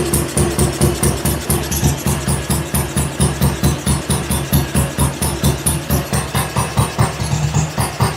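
A BSA Goldstar motorcycle engine runs on its first start, a loud, close single-cylinder thump with a steady, even pulsing rhythm that carries through the whole clip with no voices.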